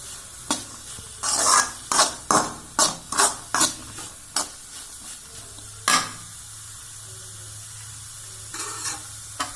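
Carrots sautéing in a little oil for vegetable fried rice, with a run of close, rhythmic spatula scrapes and stirs over a steady low sizzle, then a pause and a few more strokes.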